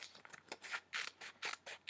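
Scissors snip through paper while cutting out a heart shape, a close, quiet series of repeated crisp cuts in quick succession.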